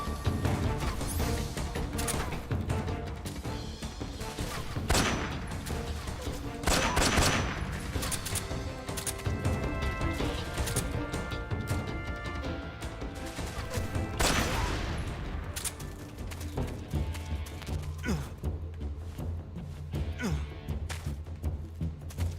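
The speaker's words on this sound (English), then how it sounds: "Shotgun, bitch." Shotgun blasts in Metal Gear Solid 3: Snake Eater ring out as several loud, sharp bursts spread across a dense, busy game soundscape, with a voice talking over parts of it.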